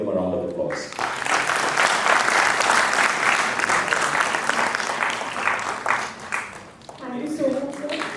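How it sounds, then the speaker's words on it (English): An audience applauds panelists at an entrepreneurship summit panel discussion, a full burst of clapping that swells, holds, then tapers, with a voice speaking briefly before and after. "can you please give them a round of applause?"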